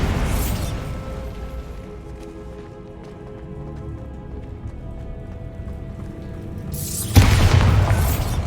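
A Bombarda spell explodes in Hogwarts Legacy, a loud broadband blast at the start and another burst near the end, with a low rumbling ambient game soundscape and faint tonal music in between.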